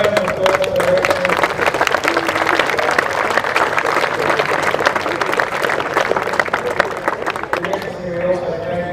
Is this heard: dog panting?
no